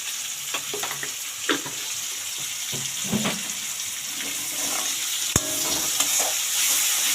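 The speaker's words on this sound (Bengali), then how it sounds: "দিয়ে ভালো করে পেঁয়াজটাকে ভেজে নেব ব্রাউন করে" Onions frying in a pan as they are browned, with a dense, steady sizzle and intermittent scrapes and taps of a spatula as they are stirred. One sharp metallic clack near the end. Close up, no talking.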